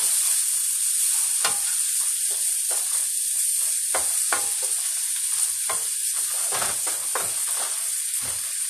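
Minced garlic frying for Chinese shrimp fried rice makes a loud, constant sizzle and hiss, broken by repeated scraping strokes of a utensil stirring through the pan.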